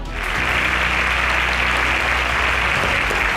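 A studio audience applauds competition finalists at a semi-final event, steady, dense clapping that holds loud and close throughout with no voices over it.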